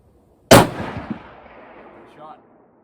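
A single sharp rifle shot from a Browning A-Bolt Mountain TI in 300 WSM cracks loudly up close, then rolls off in a long echoing tail with a faint distant return.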